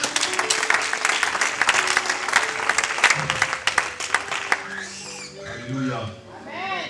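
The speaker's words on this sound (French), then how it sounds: "Est-ce qu'on peut acclamer Dieu?" Church congregation at a prophetic worship gathering bursts into loud, dense applause and acclaim for God, sustained clapping for about five seconds before fading into voices.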